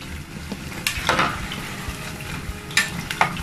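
Cauliflower fries in hot oil with butter and seasoning, a steady close sizzle broken by occasional scrapes and stirs of a utensil in the pan.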